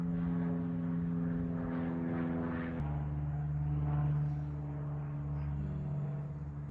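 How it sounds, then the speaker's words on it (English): An airplane passes overhead, a sustained propeller-like drone with steady tonal hum that shifts pitch midway and slowly fades, no talking. "there's a plane flying over."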